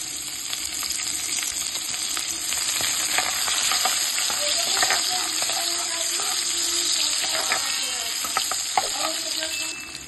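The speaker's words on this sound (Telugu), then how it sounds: "ఇవి కొంచెం వేగిన తర్వాత సన్నగా తరుపుకుని ఒక ఉల్లిపాయ వేసుకొని ఇది కూడా ఫ్రై చేసుకోవాలి" Onion fries in hot oil with mustard seeds, cumin and garlic, giving a steady close sizzle with occasional stirring scrapes and clicks throughout.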